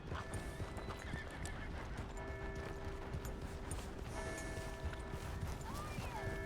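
Steady horse hoof clip-clop with a whinny in Red Dead Redemption 2, close and continuous over ambient game sound with bits of background music.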